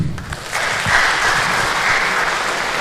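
A room full of people claps in sustained, even applause that holds at a steady level throughout.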